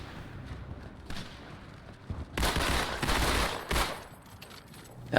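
Dual-wielded guns fire a rapid stream of bullets in Halo 2, loud rattling bursts that swell in, pause briefly and resume, over quieter background game noise.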